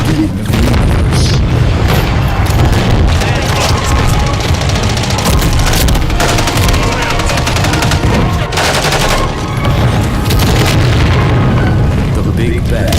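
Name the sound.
Big Bang explosion sound effect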